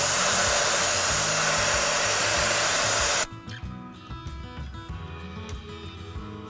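Air rushes out of a 4x4 tyre through an Ironman 4x4 deflator as the pressure drops from 32 toward 22 PSI, a loud, steady close hiss that cuts off abruptly halfway, leaving faint clicks and handling noise.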